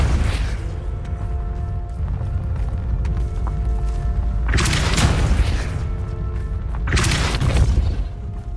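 Two loud booming spell blasts from Hogwarts Legacy, a fire-and-push spell combo, burst one after another over steady game ambience, each heavy and broad with a quick decay.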